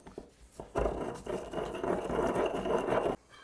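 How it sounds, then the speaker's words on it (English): Two garlic cloves and a habanero chili being ground into a paste for tacos make a steady, close gritty rubbing and grinding noise that runs for a few seconds before stopping abruptly. "I'm just going to grind it up into a paste."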